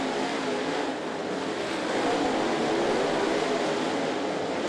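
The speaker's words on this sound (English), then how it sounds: "He has got that Clements motor screaming hard around this high bank for a 10-mile oval" A dirt race car with a Clements motor screams around a high-banked oval at Volunteer Speedway, a steady, loud, continuous engine roar filling the whole stretch with no talk over it.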